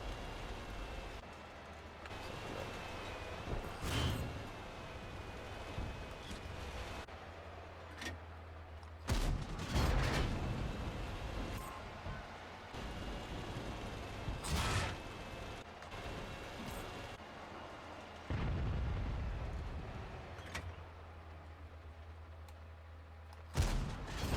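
Tank cannon shots in World of Tanks, a few loud booming blasts spaced across a steady rumbling battle background, with engine noise and other distant gunfire in between.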